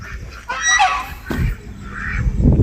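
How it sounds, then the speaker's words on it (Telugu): Loud honking duck calls in a short burst, close by, followed by a low rumbling background, in a park at Horsley Hills, Chittoor district. "బాతులు భలే ఉన్నాయండి, బాగా ఆడుకుంటున్నాయి."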